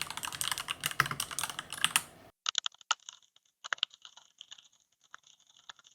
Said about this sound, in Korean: 키보드 타건음같이 틱틱대는 소리